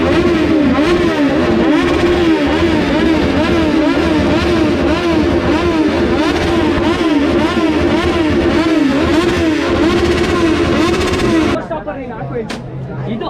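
A superbike engine screams at high revs through a wheelie stunt on a college campus, holding a loud, wavering roar for several seconds before cutting off abruptly near the end.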